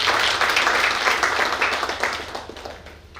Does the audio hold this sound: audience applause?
yes